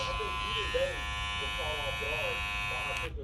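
Babyliss FX cordless hair clipper with its motor running, a steady close high-pitched electric buzz that stops abruptly near the end, with someone talking over it.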